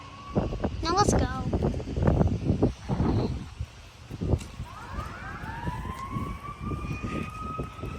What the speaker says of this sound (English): Sorry you need to hear this siren.